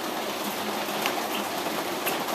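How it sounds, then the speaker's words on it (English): Steady hiss of rain pouring down and leaking inside a sunroom, a dense even wash of drops with occasional louder splashes, no voices. "And it's raining right inside of our sunroom."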